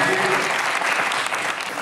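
A French television studio audience breaks into loud, sustained applause, dense clapping that holds steady throughout, with faint voices underneath.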